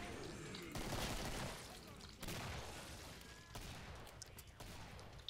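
Rapid gunfire in the Killing Floor video game, a dense, continuous roar of shots with a short break, heard mid-distance while a voice speaks over it.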